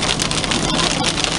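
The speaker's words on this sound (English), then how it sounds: "Comes the rain, big bad rain, heavy rain." Heavy rain pounds a Chevrolet Suburban driving north on I-75 from Knoxville, a dense, steady roar of drops drumming on the roof and windshield with engine and road noise beneath, loud and continuous throughout.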